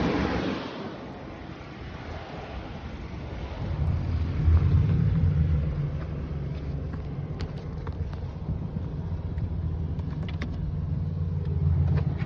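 A 2024 Ford Explorer ST-Line idles at close range with a low, even rumble. It stays quiet and steady, with faint ticks and the whoosh of the climate fan in the background.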